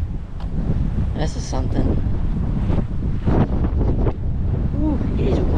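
Strong wind gusts at a lakeside, roaring and buffeting the microphone in uneven bursts, with a person talking briefly beneath the rushing noise.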